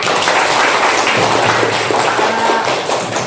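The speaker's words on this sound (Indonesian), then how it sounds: "Tepuk tangan untuk kita semua dulu." Dense applause from a class of third-grade children in an elementary school classroom, loud and continuous with many small hands clapping at once, filling the whole moment without a break.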